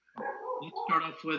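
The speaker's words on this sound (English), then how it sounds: "please pardon my dog in the backyard, in the background" A dog in a backyard barks and yips a few times in the background while a person speaks over it during a zoning board meeting held remotely.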